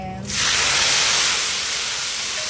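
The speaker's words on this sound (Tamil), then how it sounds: "அந்த சாந்தை இந்த எண்ணெயில் ஊற்றுங்க" Ground spice paste pours into hot oil and butter and bursts into a loud, sustained sizzle that starts suddenly and stays steady and close.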